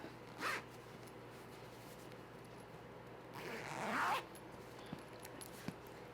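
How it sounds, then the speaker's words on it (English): A zipper on a travel blanket pillow case is drawn closed: a short close zip first, then a longer, steadier zip a few seconds later, both quiet against a faint background with no talking. "you stuff the blanket back in, you zip everything back up"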